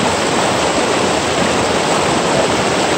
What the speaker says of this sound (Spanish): Aquí andamos en el río Rosario, miren qué bonito se ve. Pues lleva fuerza el río.